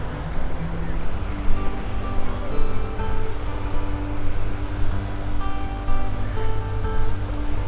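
Ocean surf washes onto a warm beach, rolling in soft, repeating swells of hiss with wind noise on the microphone and a few steady tones underneath.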